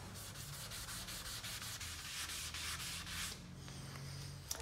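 Coarse sandpaper on a small hand block rubbing across the plastic lens of a 2006 Audi A3 headlight during restoration, a steady close scratchy back-and-forth sanding with regular strokes, alone without talk.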